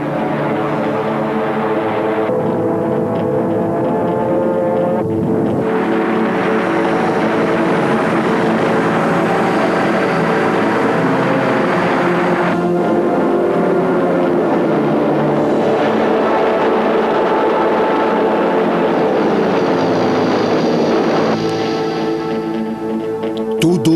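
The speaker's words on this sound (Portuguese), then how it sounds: "Tudo sobre aviões de combate" World War II combat aircraft in the Pacific War, propeller engines droning loud and steady for a long stretch, rising and shifting as planes pass, with no voices.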